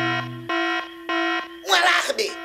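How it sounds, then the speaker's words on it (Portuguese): A cartoon train's alarm sounds in loud, steady electronic tones, pulsing in repeated beeps before a burst of noisy commotion takes over. "Um alarme!"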